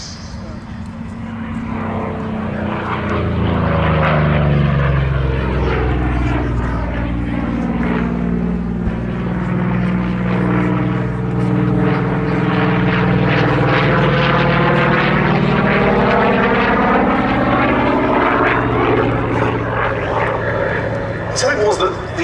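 A Goodyear Corsair propeller fighter flies past at the Duxford Battle of Britain air show, a loud piston-engine roar swelling and sweeping by with a strong pitch shift, with a commentator talking over it.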